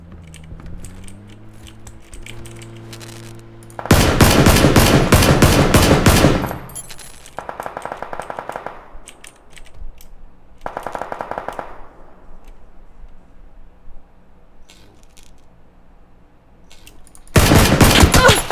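Automatic rifle fire rattles through an online shooter game in long, loud bursts, then shorter sustained volleys further apart, and a final heavy burst at the end, with no talk over it.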